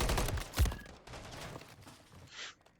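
Pistol shots from two handguns ring out in a first-person shooter match, a quick cluster of loud cracks with one sharp peak near the start, then quieter game sounds and a brief high hiss toward the end.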